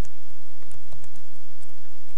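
Rapid, light clicking of a computer keyboard being typed on, a steady patter of keystrokes close by with no voices.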